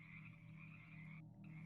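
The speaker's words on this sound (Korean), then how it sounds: "개구리 울음소리가 울려 퍼지는 저녁 논물." Frogs croak steadily in a dense chorus, used as an ambient effect under a narrated horror story, heard alone at a low level.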